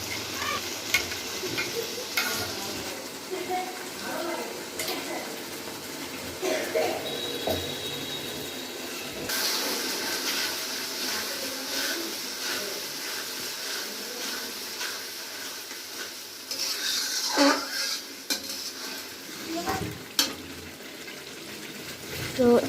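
A spice paste of ginger, garlic, chilli and tomato sautés in a pan, with a soft continuous sizzle broken by scraping and stirring strokes and occasional clinks of the utensil, steady and close by.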